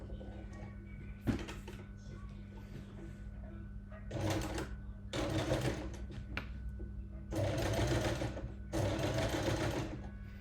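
A sewing machine stitches straight down through fabric in several short runs of fast, even mechanical whirring, separated by pauses with a low steady hum and an occasional click, moderately quiet and close.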